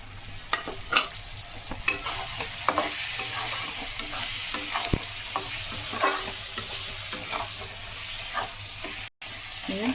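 Spice masala of cumin, red chilli powder, turmeric, Kitchen King masala and coriander powder frying on medium flame for a mushroom dish: continuous close sizzling with frequent spatula scrapes and clatters, briefly cutting out near the end.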